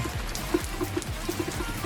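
Soft, steady rainfall with scattered drops tapping a surface nearby, a light patter continuing throughout without any voices.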